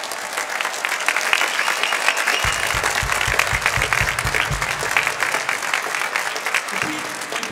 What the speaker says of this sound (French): je voudrais vraiment qu'on les applaudisse